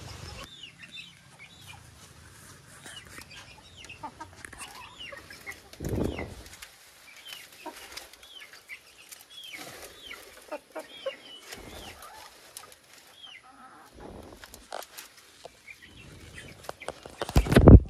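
A hen on her nest of eggs on a farm, giving repeated soft clucks close by, with bursts of wing flapping and rustling between them and occasional louder thumps.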